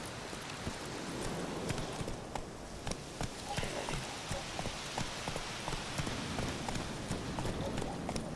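Rapid clip-clopping hoofbeats of a galloping horse in the video game The Witcher 3: Wild Hunt, steady and rhythmic over a rushing background, with faint talk mixed in.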